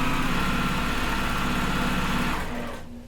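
A sewing machine runs steadily while stitching a pieced quilt block, a continuous close mechanical whir with a fast regular rhythm that holds for most of the stretch, then slows and stops near the end.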